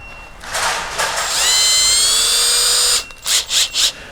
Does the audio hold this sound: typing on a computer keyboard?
no